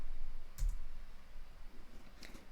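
Typing on a computer keyboard at a command line, a couple of faint, sparse keystroke clicks spaced well apart over a quiet background.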